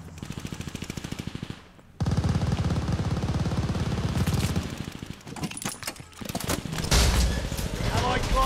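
Rapid automatic gunfire from an aircraft strafing run in a sniping-focused shooter video game, a dense, loud burst after a short lull, mixed with battle noise and a game announcer's voice.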